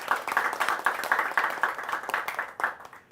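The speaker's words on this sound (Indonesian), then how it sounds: "Kita beri tepuk tangan untuk kita semua" Audience applause at a roundtable forum on strengthening Indonesian migrant workers: sustained dense clapping from a hall crowd, steady for about three seconds and tapering slightly at the end, with no talk over it.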